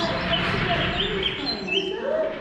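Whistled oriole song with clear, fluting phrases rising and falling, heard close over a busy layer of red-winged blackbird, frog and other birdsong and background chatter.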